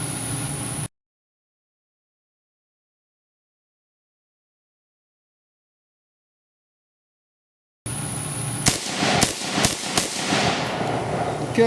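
A rusted FG42 rifle fires a blunted round outdoors, with a cluster of sharp loud cracks and mechanical clatter after several seconds of dead silence, over steady background noise.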